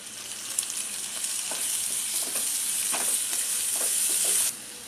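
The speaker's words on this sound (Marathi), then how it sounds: "चांगला कांदा परतून घेऊया। टोमॅटो घालूया" Onion and tomato for egg bhurji fry in a pan over high gas, a bright continuous sizzle with light stirring taps throughout, close and steady before cutting off near the end, with no voices.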